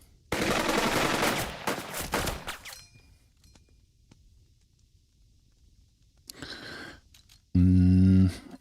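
Bursts of machine gun fire in the turn-based game Burden of Command: a loud rattling volley up front, a quieter burst later, then a brief hard tonal sound at the end, with near silence between.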